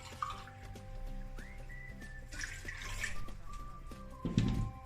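Water from a small glass is poured onto pork lard for a Mallorcan vegetable coca dough, giving a quiet, soft trickle with faint splashes and a slightly louder spill near the end.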